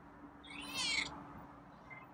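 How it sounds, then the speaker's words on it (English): A feral cat gives a single faint, high-pitched meow lasting under a second in a quiet room, with a slight rasp to it. "It's a higher pitched meow than I normally hear."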